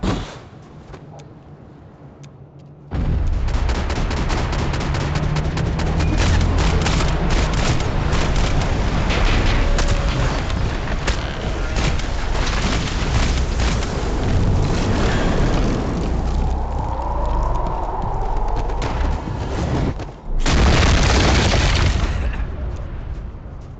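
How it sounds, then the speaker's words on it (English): Tank blowing up in Max Payne 3, a loud sustained blast with rumbling debris and crackling fire that roars for many seconds, cuts off, then bursts once more. "That tank's gonna blow!"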